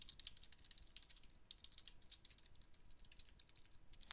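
Rapid, uneven keystrokes clatter on a computer keyboard while code is being written, close and crisp, in irregular bursts with brief pauses and no talking.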